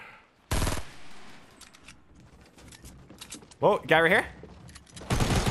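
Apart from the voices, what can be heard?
gunfire in Fortnite Battle Royale video game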